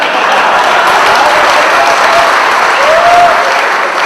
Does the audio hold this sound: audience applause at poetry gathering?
yes